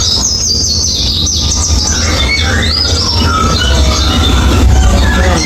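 Sparrows chirp overhead at the Grand Aquarium in Hurghada, Egypt, a dense layer of high, busy tweets over a loud, steady low rumble that fills the whole span.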